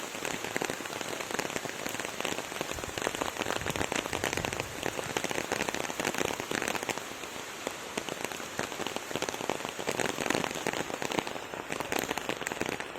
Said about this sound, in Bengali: এই বৃষ্টির শব্দটা দারুণ।